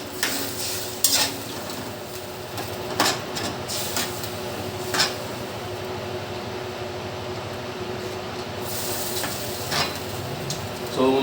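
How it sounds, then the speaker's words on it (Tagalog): Tomatoes fry in a pan for a fish dish with tausi, a steady sizzle running throughout while a utensil scrapes and stirs in several sharp clatters, close by with no talking. "So ayan na po natin siyang maluto yung kamatis."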